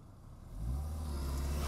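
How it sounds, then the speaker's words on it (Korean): The 2.3-liter engine of a Ford Mustang muscle car swells from a low idle into a loud, deep rev and holds there, strong and steady. "힘있는 머슬카의 대명사로 불리는 포드사의 머스탱입니다."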